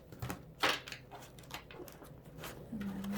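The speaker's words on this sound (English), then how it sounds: "So I'm going to start shuffling with this deck." Tarot cards shuffled by hand in a quiet room, giving soft papery riffles and flicks with one brief, sharper burst of card noise, fairly close and faint.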